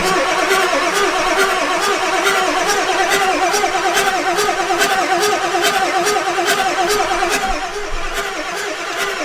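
A 7.3 diesel Ford E350 4x4 van engine, running poorly and sprayed with starting fluid, cranks over and over in a loud, rhythmic churn, close by, without catching into a run.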